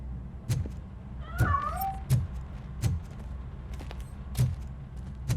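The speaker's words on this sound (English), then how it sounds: "That cat must be hiding inside." A cat in the video game RoboCop: Rogue City gives one drawn-out, rising-then-falling meow, set among regular heavy footsteps and thuds in a quiet indoor space.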